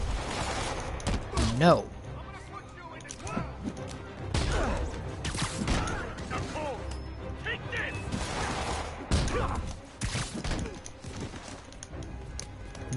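Enemy assault rifle gunfire in Spider-Man PS4, scattered bursts and sharp cracks mixed with impacts and scuffling, with someone talking over the combat noise.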